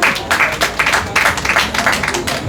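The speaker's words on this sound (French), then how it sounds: "On va applaudir quand même." Audience applause at an evening debate on the psychological consequences of slavery, with a steady patter of clapping from a modest crowd and some voices mixed in.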